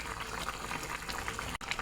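Pabda fish curry gravy with eggplant bori bubbles at a rolling boil in a pot, a close, continuous gurgling simmer with one brief dropout, no voices.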